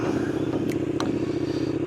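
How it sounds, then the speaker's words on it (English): A KTM 1290 motorcycle fitted with a Leovince LV10 slip-on exhaust rumbles steadily while riding, a loud, continuous engine drone with a couple of sharp clicks on top. "So the first ride with the new Spark exhaust, Leovin's slip-on, the LV10."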